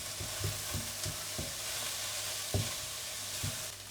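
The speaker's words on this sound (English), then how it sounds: "I'm going to give this a stir, and I'm going to cook these until they've softened." Onions and chillies for beef curry fry in a pan with a soft continuous sizzle, punctuated by regular scraping stir strokes, close and fairly quiet.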